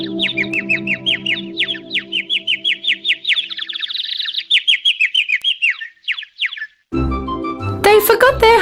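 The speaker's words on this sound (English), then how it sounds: "The bird chirped songs with its beautiful voice for them." A snow-white bird in a children's fairy tale sings bright, rapid chirps and trills in a loud, close run of phrases, and a short burst of other sound follows at the end.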